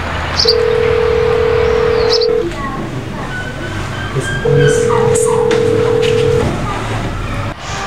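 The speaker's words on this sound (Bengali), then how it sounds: "এ ফোন আইছে" A phone rings in two long, steady electronic tones, each about two seconds, separated by a short gap, loud and close over background noise.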